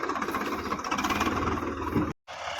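Tractor engine running on a farm during potato seed work, making a steady, loud, close rumble that drops out briefly near the end before resuming.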